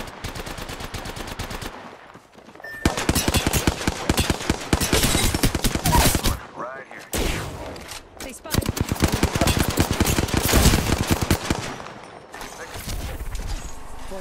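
Rapid automatic gunfire from the Apex Legends battle royale game, loud bursts of machine-gun fire with brief pauses and a short gap midway, some other game sounds mixed in.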